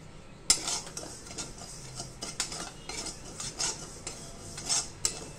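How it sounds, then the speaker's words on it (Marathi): Twenty grams of caraway seeds (shahjire) dry roasting in a pan for a Satara-style chilli masala, giving light scraping and clinking stirring strokes with soft rustles, close and fairly quiet with no talk. "आपण आता शहाजिरे भाजून घेतोय."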